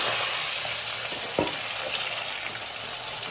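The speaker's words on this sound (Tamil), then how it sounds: "மஞ்சள் தூள் போட்டு மீன் பிரட்டி கிடக்கு. மீன் பெரிய பொரியல் நடக்குது." Fish coated in turmeric powder frying in a pan gives a steady close sizzle with a faint scrape of stirring partway through.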